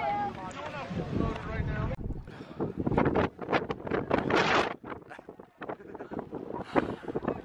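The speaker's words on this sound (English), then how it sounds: "it is so windy" Strong gusting wind buffets the microphone outdoors at a track meet postponed for bad weather, a steady loud rumble with sharper gusts, while people talk over it near the mic.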